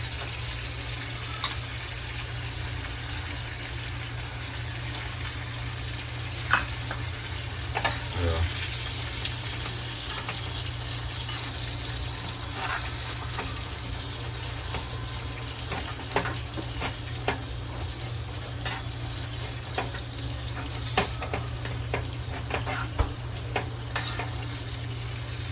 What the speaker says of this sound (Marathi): मस्तपैकी बारीक मेल्ट करून घेतोय पूर्ण.